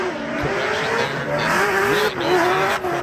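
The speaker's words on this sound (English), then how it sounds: "Listen to that exhaust note, Ryan." Loud, close drift car engine revving and shifting pitch during Formula Drift qualifying at Monroe, with tires squealing as it slides, the exhaust note rising and falling over a few seconds.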